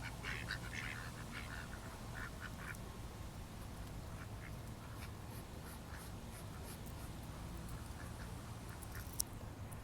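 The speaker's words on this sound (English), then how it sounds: "that duck got a big ass head" A duck quacks repeatedly in short nasal bursts, fairly faint against a steady outdoor background hiss.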